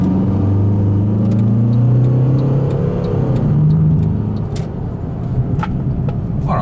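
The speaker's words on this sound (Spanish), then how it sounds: "Bueno, aceleración está bastante bien. El par motor nos ayuda a que se mueva con agilidad y con rapidez." A Mercedes-Benz C220 Coupe AMG W204 accelerates with a loud, steady engine rumble and rising revs heard from inside the car, the drone sweeping upward over about seven seconds with no talking.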